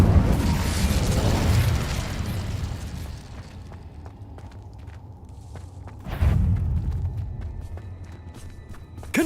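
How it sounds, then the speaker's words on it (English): A wizard game's Incendio fire spell erupts in a loud, roaring burst of flame that dies down into a low rumble, then flares again in a second blast, with faint footsteps in between. "Incendio!"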